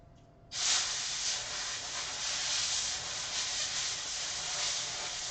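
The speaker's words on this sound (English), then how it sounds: "just going to take some compressed air and just blow it out quickly" A can of compressed air blasts a steady, close hiss across a PlayStation 3 Fat circuit board to clear off alcohol, starting abruptly and holding evenly for about five seconds.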